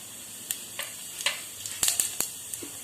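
Cumin seeds crackling in hot oil for a tempering: quiet background sizzle broken by a quick run of sharp pops and crackles, close and brief.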